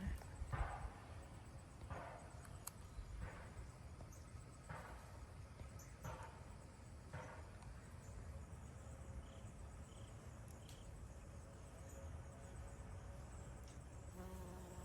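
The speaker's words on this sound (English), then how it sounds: "the bees trying to get in there" Faint buzzing of bees hovering around pepper plants, a soft droning hum with a few brief taps and rustles, quiet and continuous outdoors in a garden.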